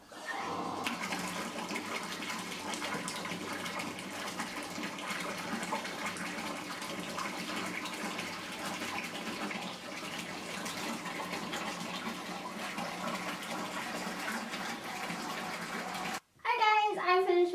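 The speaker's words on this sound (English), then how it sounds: "I am anxious to fill up my tub a little bit more and hop on in" Water pours steadily from a tap into a bathtub, a constant close rushing hiss that runs unbroken before cutting off abruptly near the end.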